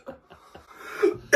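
A person coughs several short times in quick succession at close range, and the clip ends in a louder burst.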